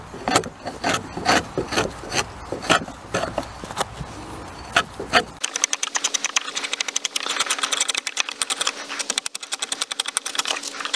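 Slick (a large hand chisel) paring down a log tenon during a cabin build, with repeated close scraping and shaving strokes of steel on wood, slower and separated at first, then quicker and continuous, with no talk.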